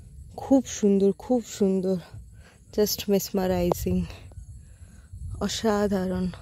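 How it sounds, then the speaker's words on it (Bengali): Crickets keep up a thin, steady high chirring in a hill forest, running continuously beneath several people talking and exclaiming near by. "নেচারকে পুরো ফিল করা যাচ্ছে, খালি ঝিঝি পোকার ডাক"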